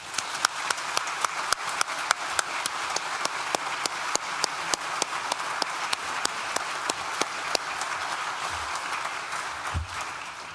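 Graduation ceremony audience at a university hall applauds steadily for about ten seconds, a dense wash of claps punctuated by sharper near claps, with no talking over it.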